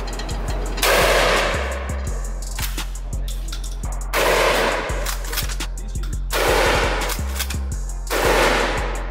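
A shotgun fires at a gun range: several loud, sharp blasts roughly every two seconds, each with a noisy tail, over a steady low rumble of other gunfire nearby.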